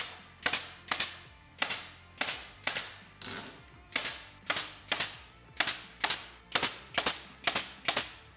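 Pallet wood pieces being tacked together for a dog bed give sharp, evenly spaced hammer or nail-gun taps, about a dozen close hits in a steady rhythm with short pauses.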